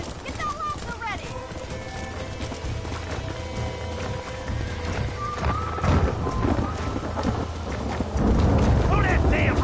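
Horses galloping in the Western video game Red Dead, rapid hoofbeats clattering under game sounds and voices, growing louder toward the end.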